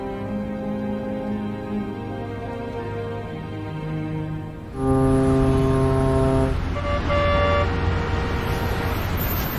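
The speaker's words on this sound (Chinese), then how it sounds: "人声与车声 渐渐在城市里响起" City traffic in Wuhan as it reawakens after lockdown, with sustained horn and engine tones that swell louder about halfway through and overlap with a steady background hum.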